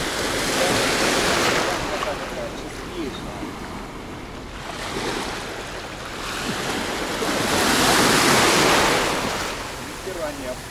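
Sea waves roll in and break on the shore at Alanya in April, surging in loud washes of surf that rise and fall over several swells, with wind buffeting the microphone and a faint voice at times.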